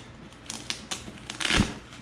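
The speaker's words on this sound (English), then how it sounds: "There's a little Velcro up here by the handle." A Velcro strap near the handle of a TenPoint hard crossbow case gets pulled open in a few short ripping bursts, ending in one louder, longer tear, close and fairly quiet.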